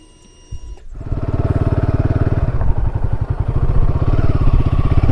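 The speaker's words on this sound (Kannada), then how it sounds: "ನಾವು ಬೈಕಲ್ಲಿ ಹೋಗ್ತಾ ಇದ್ದೀವಿ." A motorcycle riding off-road in the Himalayas, its engine starting up and then running loud and steady close by, with a rapid throbbing rumble and slight rises in revs.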